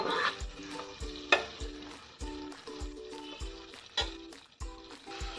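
Prawns frying lightly in oil in a pan for a Bengali oil-prawn dish, a soft steady sizzle broken by regular clanks and scrapes of stirring, close and moderately loud with no talk.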